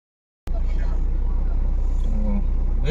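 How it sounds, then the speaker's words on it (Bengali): A motorbike engine kicks in suddenly and runs with a steady, close, low rumble, with people talking over it. "এই বাইকটা বেরোচ্ছে, গাড়ি বের করতেছে"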